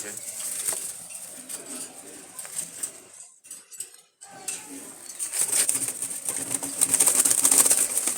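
Wild Jalali pigeons kept for sale in Dhaka give soft cooing and rustling, with brief bursts of wing flapping, under steady background noise and intermittent clattering. The sound briefly drops out partway through.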